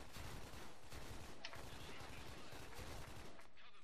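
Sustained rapid gunfire in the online shooter S.K.I.L.L Special Force 2, dense overlapping bursts filling the whole stretch at steady loudness, with a brief sharper crack partway through.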